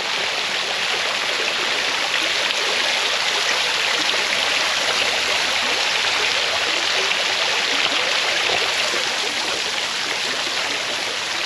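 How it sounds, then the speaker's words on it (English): Water splashing continuously from a fountain in a downtown Ridgeland landscape with old trees, a steady, fairly loud broadband rush with no break or voices. "You hear the fountain."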